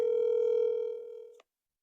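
A single steady telephone ringback tone on an outgoing call, clear and fairly loud, fading slightly before cutting off abruptly, followed by silence.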